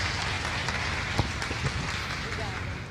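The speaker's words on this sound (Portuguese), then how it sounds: "Uma salva de palmas, agradecimento a esse banho de luz" Applause from a church congregation honoring a family, a dense wash of clapping that sounds like rain, heard at a moderate distance with a few louder claps standing out.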